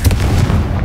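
Confringo fire spell in Hogwarts Legacy: a sharp, loud booming blast up front, like a cannon shot, trailing into a short low rumble.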